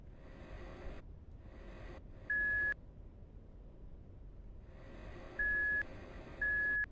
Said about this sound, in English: A reverse sound. Beep.